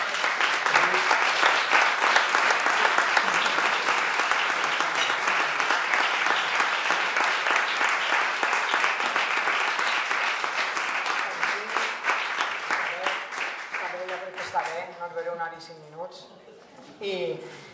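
A large audience applauds after a talk, dense sustained clapping that fills the room, then thins out and fades toward the end with a few voices.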